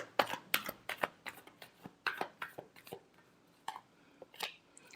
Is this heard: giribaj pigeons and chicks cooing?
no